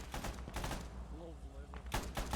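Bursts of close automatic gunfire in the game Vandal Commander rattle loudly at the start and again at the end, with a brief lull between and a voice talking.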